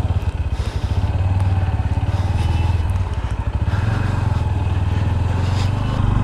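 Bajaj Pulsar NS 125 motorcycle engine idling and pulsing at low speed during a tight turn, a close, steady rhythmic thrum with faint clatter and no voices.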